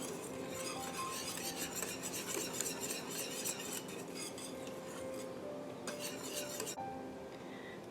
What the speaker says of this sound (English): stir it constantly